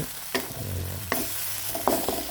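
Food stir-fries steadily in oil in a Teflon pan while a utensil scrapes and stirs with a few distinct knocks.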